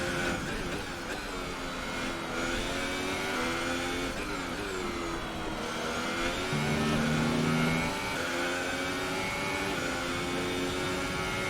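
A Formula 1 car in the F1 2018 racing game at the Austrian circuit, a high-pitched engine whine rising and falling through gear changes, steady and continuous with no talk.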